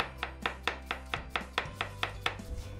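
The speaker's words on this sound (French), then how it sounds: "L'étape cruciale, c'est émincer l'oignon le plus finement possible." A knife slices an onion very finely on a cutting board, roughly a dozen crisp, evenly spaced chops in quick steady rhythm, close and clear.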